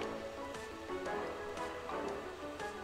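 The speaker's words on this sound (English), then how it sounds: "This is a waterfall." Waterfall in a video game, a steady rushing wash of water at moderate level, continuous throughout with faint game tones layered underneath.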